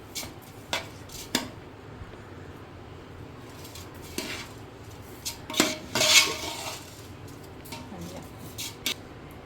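Beef dum biryani rice with ghee and masala being stirred in a large pot, metal utensil clinks and scrapes coming in scattered bursts against a low kitchen background, close by.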